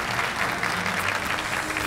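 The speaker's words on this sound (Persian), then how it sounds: "تشویقشون بفرمایید." Studio audience applause on a Persian music talent show, a dense steady wash of clapping filling the whole moment at moderate loudness with no voices on top.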